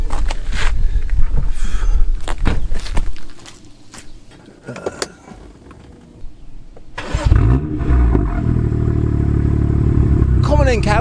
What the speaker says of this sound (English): start the engine, but put it in Sport Plus first, because then you'll hear it burble, and then once you've started the engine, give it a little rev